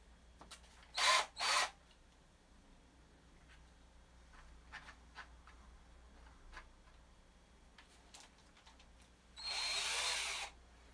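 Short bursts of a power drill whirring during kit guitar assembly, two quick pulses then a longer one, with faint ticking and handling noises between.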